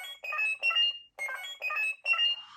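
A DX Kamen Rider Faiz cannon toy sounds electronic beeping tones at its soft rubber buttons, five short tonal bursts in an irregular sequence, clear and close with silence in between.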